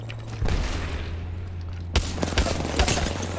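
Gunfire in Apex Legends comes as rapid bursts of shots, with a heavy barrage breaking out partway through and continuing in loud, dense cracks that sit over a steady low background rumble.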